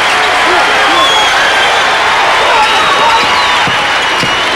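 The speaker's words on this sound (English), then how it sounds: "the crowd now getting into it for the first time" A Big Red basketball crowd in the Bloomington, Indiana arena during a 1988-89 Indiana Hoosiers vs Illinois game, steady loud cheering and applause filling the whole clip.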